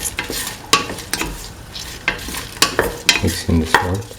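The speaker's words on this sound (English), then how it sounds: "mix in the salt" A spoon scrapes and stirs through a lentil and snake gourd dish as salt is mixed in, with repeated close scraping strokes and faint sizzling between them, no voices.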